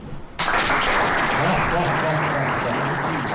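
A live audience at an E3 show for Nitro 2 breaks into loud, sustained applause that starts abruptly and fills the room, with faint voices mixed underneath.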